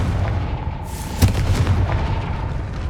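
A Confringo blasting spell in Hogwarts Legacy bursts with a sharp booming impact and a rumbling fiery tail beneath low ambient music.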